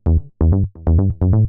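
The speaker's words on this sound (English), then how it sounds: "So this kind of like plucky, kind of deep analog type bass." Deep, plucky analog bass synth playing a short rhythmic pattern of four punchy note groups, each with a quick attack and brief decay, with no other sounds.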